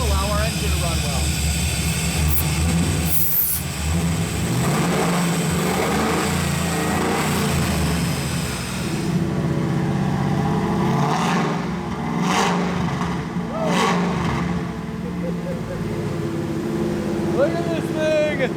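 A rebuilt Ford SVT Lightning pickup's engine runs steadily at a loud, rough idle with a few rises in pitch, while people talk over it.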